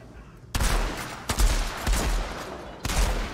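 Heavy gunfire in Outriders on PS5, a faint start followed by sudden loud bursts of shots and impacts that come in several waves with brief lulls between them.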